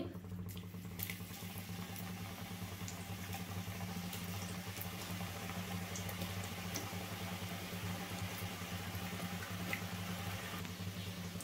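Snack batter frying in hot oil in a pan gives a steady, faint bubbling sizzle that holds even and continuous with no talk over it.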